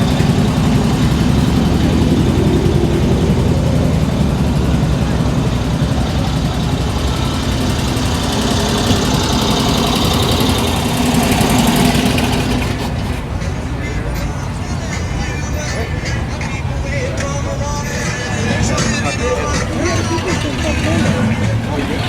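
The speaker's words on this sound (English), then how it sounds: "This Chevy small block powered Studebaker." A Chevy small-block engine in a Studebaker runs at a cruise-night car show, a loud, steady, close rumble under crowd chatter that eases slightly partway through as people talk nearby.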